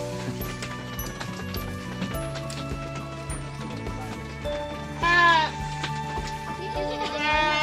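Goats bleat in a few wavering calls that rise over loud continuous music, heard on a Philippine farm during an El Niño dry spell.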